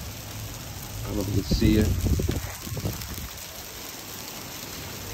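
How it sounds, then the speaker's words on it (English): Major hail comes down at Seal Beach, heard from beneath the pier as a dense, steady clatter and hiss, with a person talking over it partway through. "right now it's just like major hail coming down"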